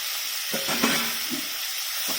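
Onions sauté in a pan for an onion kosu, a steady close sizzle with brief stirring scrapes and clatters, no speech.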